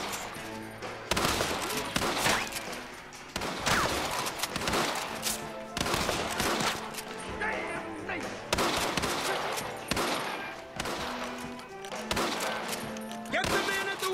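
Rapid gunfire from a Red Dead Redemption shootout, with volleys of rifle and pistol shots in repeated loud bursts and brief lulls, close and dense throughout.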